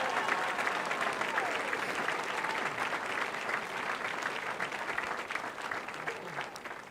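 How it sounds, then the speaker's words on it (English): Sustained applause from a gathered crowd at a police recruit graduation parade, honouring retiring officers; steady, dense clapping that holds evenly for the full stretch with faint voices mixed in. "Applause for all of these retiring officers"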